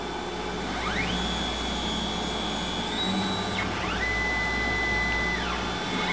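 A surface grinder wheel makes a dressing pass across a magnetic chuck, a loud steady machine roar with a high whine that rises and falls in pitch as the table moves.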